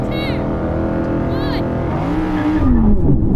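Audi RS models and an R8 launching side by side in a drag race, engines droning with rising and falling revs and a brief whine, while people talk over the noise.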